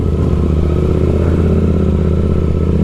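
A KTM RC8C motorcycle being ridden, its engine producing a loud, steady, close-up drone with a rough, throbbing low-frequency pulse throughout.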